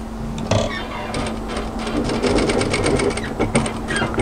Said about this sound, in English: and continue stitching